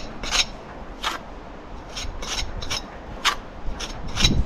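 A wet trowel strikes off mortar joints in repointed brickwork, making short, repeated scraping rubs at an irregular rhythm, close and fairly quiet, with no talking.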